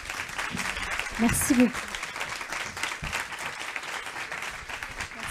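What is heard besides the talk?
audience applause at round table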